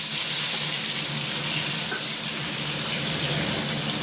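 Paneer drops into hot oil and fries with a dense, even hiss that holds steady and close from start to finish, with no voices over it.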